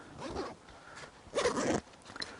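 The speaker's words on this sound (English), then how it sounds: "really nice zippers here." Zipper on a Mystery Ranch 3 Day Assault BVS backpack is pulled open in two quick, close rasping strokes, the second louder and longer, in a quiet room.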